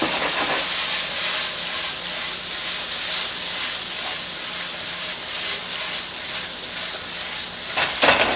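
Broccoli sizzles hard in a pan over high heat, a steady, loud, dense hiss of frying running unbroken throughout with a small clatter near the end and no talk.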